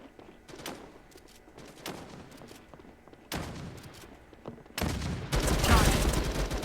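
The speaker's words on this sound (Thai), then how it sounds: "ยิงโคตร มันยิงรัวเลย" Rapid machine gun fire in the shooter video game Matrix Fire. Scattered shots and brief bursts give way to a loud, sustained rattling volley at the end.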